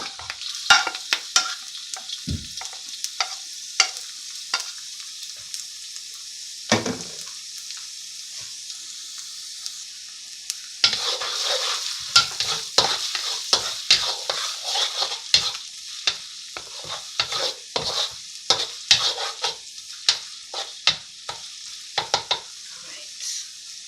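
Garlic and ginger, with a few curry leaves, stir fry in a hot pan for a beef stir fry, a soft steady sizzle broken by frequent scraping and clattering strokes of a spatula.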